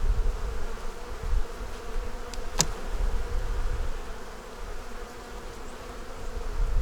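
Honey bees buzz inside an open hive from a swarm taken last March, a dense and fairly loud continuous hum heard close with no talking.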